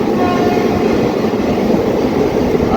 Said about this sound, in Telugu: మన ట్రైన్ వెళ్ళి ఫస్ట్ టన్నల్ అనమాట ఇది